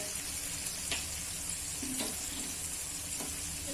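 Water bubbling and hissing steadily in a pan on the stove, heated for a quick semolina (suji) snack, a broad close simmer with a few faint utensil taps and no talking.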